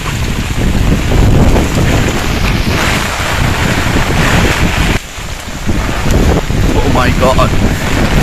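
Strong cyclone wind from Cyclone Sitrang in Bangladesh roars loudly and steadily across the microphone, a dense buffeting rush that briefly dips near the middle before surging again.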